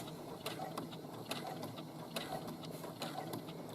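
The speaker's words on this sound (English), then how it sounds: "I'm only doing a few stitches at a time because I want that curve to stay smooth" A sewing machine stitches a curved side seam with a pocket in short bursts of a few stitches at a time, its quiet, rapid mechanical clatter pulsing in small repeated runs.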